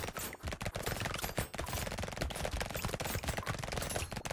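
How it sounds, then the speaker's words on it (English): Rapid SMG gunfire from many weapons in the video game Brotato, a dense, continuous stream of overlapping shots at a steady loud level with no talk. "It depends on how many SMGs are hitting them."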